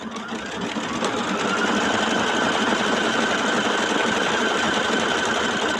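A sewing machine outlines a Matrimony wedding quilt block in white thread, its steady, close whir running continuously and fairly loud with no voices.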